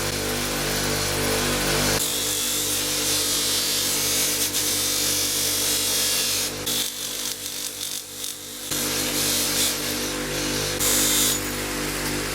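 Brass hardware being buffed on an oak utility-style hall table: a steady, loud machine-buffing whir with rubbing friction runs almost continuously, briefly thinning in the middle before returning at full strength.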